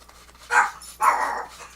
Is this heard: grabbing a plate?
no